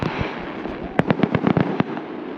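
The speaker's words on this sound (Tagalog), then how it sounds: "hindi pa tapos yung fireworks mga ka-JD. Ayan o. Going pa rin siya." Fireworks burst in the night sky, a quick run of sharp crackling pops and bangs clustered within a second or so, over a steady hiss of background noise.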